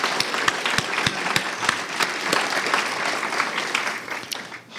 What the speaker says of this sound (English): So let's give our speakers one more round of applause